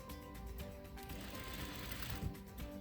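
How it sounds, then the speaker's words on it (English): A sewing machine stitches swimsuit fabric along a 3/8-inch seam with a steady, quiet mechanical whir that runs without a break and no voices. "Again, we're sewing 3/8 away."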